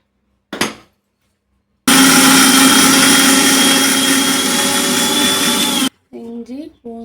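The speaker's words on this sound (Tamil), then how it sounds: "மிக்ஸியில் இப்போ தான் அரைக்கும்" A kitchen mixer grinder whirs loudly and steadily for about four seconds, grinding a ginger, garlic and mint paste for mushroom biryani, with a brief knock before it and a voice after it stops.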